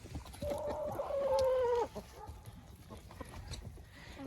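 Hens being fed plain bread soaked in water give a run of clear, close, drawn-out clucking calls early on, then settle into quieter shuffling and background farmyard noise.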